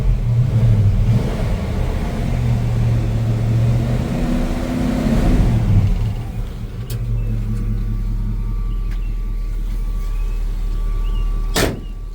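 A 1966 Chevy C10 pickup's engine cranks over and fires, then settles into a loud, steady idle close by, with a rumbling low drone and a few sharp clicks near the end.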